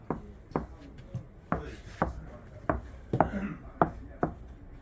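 Fingertips tap a car door speaker enclosure panel about ten times at an uneven pace, each tap a short, fairly clear knock close by.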